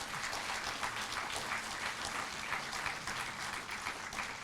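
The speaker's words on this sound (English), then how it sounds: "They need applause for it." An audience at an address to young officers at the National Academy of Direct Taxes in Nagpur applauds. The clapping is dense, steady and even, with no voices heard over it.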